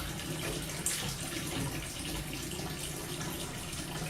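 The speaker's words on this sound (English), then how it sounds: "we like to do a rinse step in between" Water runs steadily over a metal part in a rinse step between acid and alkaline cleaners, a continuous moderate splashing hiss with no pauses.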